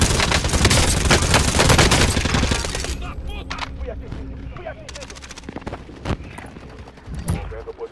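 Rapid gunfire rattles through a jungle battle royale match in a video game: dense bursts for the first few seconds, then scattered sharp shots, with voices in the background.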